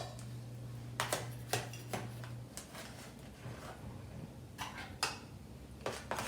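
Peach dessert being served into peach-colored dishes: a few sharp clinks and taps of utensil on dishware come at scattered moments, fairly close but soft, with a low steady hum under the first half.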